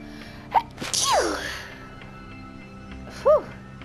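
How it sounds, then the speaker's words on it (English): A person sneezes twice, a sharp loud burst followed by a second sneeze a couple of seconds later, with a quiet background between them. "Double sneeze."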